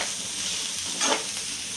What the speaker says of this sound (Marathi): आणि हे सगळं आपण परत चांगलं परतून घ्यायचं।